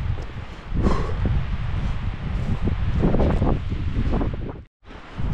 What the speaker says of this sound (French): Écoutez le vent, comme il fait du bien.